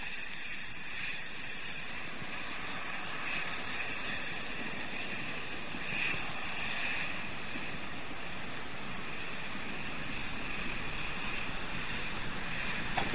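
Space Shuttle Discovery climbs during launch ascent about ninety seconds after liftoff, its rocket engines a steady, distant broadband roar that holds for the whole span with no talk over it.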